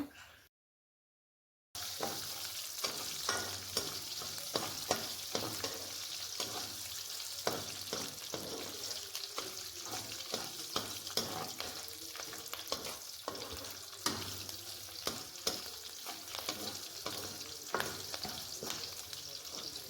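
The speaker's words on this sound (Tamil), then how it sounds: "நல்லா பொடிஸ் பொடிசாக கட் பண்ணி போட்டு நல்லா வதக்கி விட்டுக்கோங்க" Green chillies and finely chopped ginger sauté in a hot pan for upma, a steady close sizzle broken by frequent scrapes and stirs of a spoon after a brief silent gap at the start.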